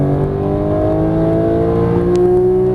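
A Porsche GT3 accelerating hard on a racetrack gives a loud, close engine note that climbs steadily in pitch as it revs, with strong tonal harmonics, a brief high whine near the end and no talking.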